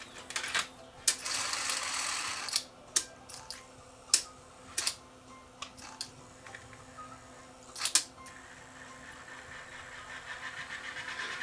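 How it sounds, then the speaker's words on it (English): A Sony DTC700 DAT deck runs with a faint mechanical whir and tape hiss, broken by irregular clicks and clunks from the transport as a noisy tape plays. "this is just a noisy tape"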